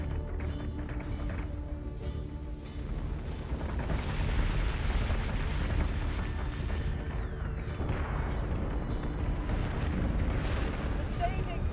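Starship weapons fire and explosions in the Battlestar Galactica Deadlock space combat game: a steady barrage of booming impacts and rapid shots that grows denser and louder partway through, with tonal game sounds and occasional voice callouts over it.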